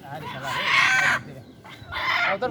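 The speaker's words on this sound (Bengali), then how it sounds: "সাগর দুই হাতে দুটি মোরগ ধরে নিয়ে নিজের সাথে তুলনা করছে" Roosters held in a person's hands at a picnic, crowing loudly and clucking up close in two long bursts separated by a short pause.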